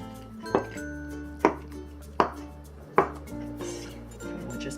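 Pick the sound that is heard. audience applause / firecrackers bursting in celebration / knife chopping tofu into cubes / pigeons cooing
knife chopping tofu into cubes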